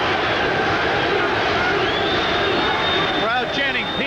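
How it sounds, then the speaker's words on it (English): A boxing arena crowd chanting during Pernell Whitaker's bout with Roger Mayweather, a loud, steady roar filling the space with a commentator's voice over it. "Crowd chanting Pete, Pernell Whitaker's other nickname, along with Sweet Pea"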